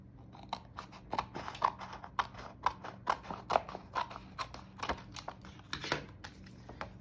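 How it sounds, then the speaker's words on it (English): Scissors cut along the seam of a clear plastic cash envelope, giving a steady run of crisp, close snips at a regular rhythm, with no talking. "So the first thing we're gonna do is cut down this center right here, down this seam."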